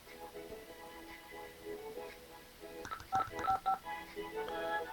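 Telephone keypad tones sound as a quick burst of short, clipped beeps on a phone line, faint and mixed with low background noise and a recorded busy-line message.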